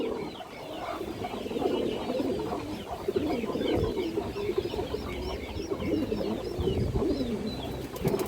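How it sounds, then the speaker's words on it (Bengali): A big Sapchila pigeon coos repeatedly among other birds in a loft, with a low rolling rhythm of overlapping calls running throughout at close range. "বিগ সাইজের একটা সাপচিলা কবুতর"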